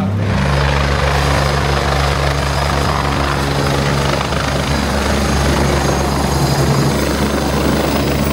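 A helicopter flies close overhead, its loud, steady rotor drone and low engine hum filling every moment with no let-up.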